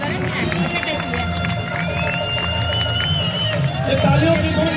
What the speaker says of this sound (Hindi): ये तालियों की गूंज रुकनी नहीं चाहिए।